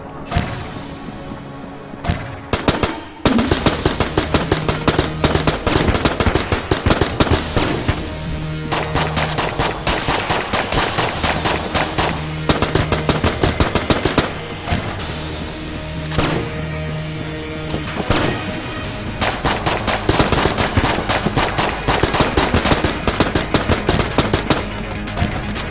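Dense, sustained gunfire in the Enter the Gungeon video game during a shootout, loud rapid bursts of shots and thuds running nearly continuously with a few short breaks.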